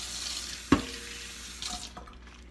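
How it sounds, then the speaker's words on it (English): Water runs from a tap in a brief burst, splashing into a pot against a soft sizzling background, then shuts off. "We're going to add a little water."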